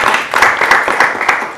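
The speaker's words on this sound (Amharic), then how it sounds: "አጨብጭቡ ለራሳችሁ" Young children at an Eid program clap for themselves, a short burst of quick, uneven handclaps close by with no talk.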